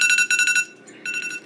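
A kitchen timer alarm set for frying chicken goes off in rapid bursts of shrill electronic beeps, stopping briefly and then starting again, loud and close with no voices.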